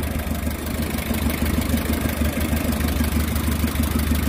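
A hot car engine that starts hard, restarted and settling into a steady, loud idle with a continuous low rumble and faint clatter, close by and with no talk.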